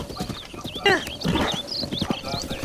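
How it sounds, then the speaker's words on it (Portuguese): A horse in a Zelda video game clip-clops and whinnies, with game sound effects and someone talking over it. "esse aqui é meu cavalo"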